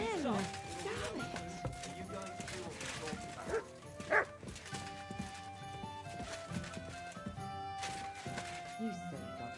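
A dog barking and yipping in the video game Kingdom Come: Deliverance 2, short barks mixed with game music, hoof clip-clop and other game sounds, with someone talking over it.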